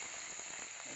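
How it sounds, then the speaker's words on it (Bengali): Curry leaves sizzling in hot oil as a tempering for an okra curry, a steady dense crackle that stays even and close for the whole second with no voice over it. "এই যে কারিয়া পাতা একটু ফোড়ন দিলাম।"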